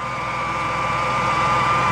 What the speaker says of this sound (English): But I have to put the cover back on to start the engine